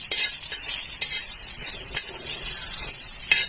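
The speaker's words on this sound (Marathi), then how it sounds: "आपण सारखा कांदा हलवत राहायचा आहे" A spatula scrapes and stirs through onion in a hot, dry pan with no oil, with a faint sizzle and sharp scraping strokes repeating roughly every half second.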